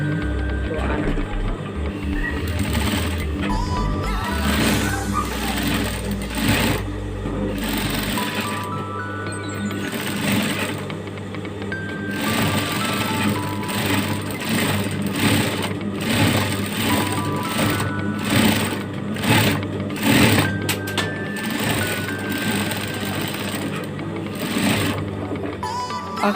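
A sewing machine stitches gold trim onto a traditional Kadazan garment, its rapid mechanical whirr running in bursts of varying length with short pauses between them, close and fairly loud.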